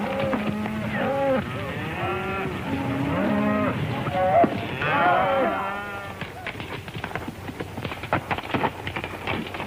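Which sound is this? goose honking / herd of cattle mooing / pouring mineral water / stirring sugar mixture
herd of cattle mooing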